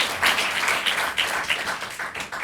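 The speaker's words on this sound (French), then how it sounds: "Mais tu peux applaudir ça si tu veux." Audience at a stand-up comedy show breaking into applause, a burst of scattered clapping that swells and ripples unevenly before thinning out.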